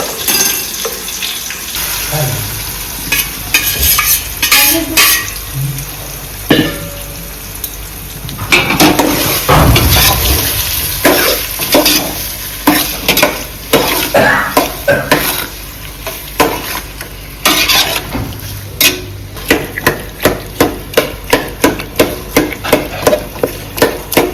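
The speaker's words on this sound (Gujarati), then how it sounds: "બટેટા વઘાર નાખ્યો" Boiled potatoes hit hot tempering oil and are stirred in a pot in a village kitchen, giving a burst of sizzling followed by rapid, rhythmic scraping and clattering of the spoon, close and fairly loud, with faint background noise.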